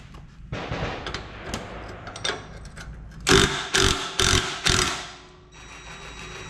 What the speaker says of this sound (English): I'm gonna take this bolt off.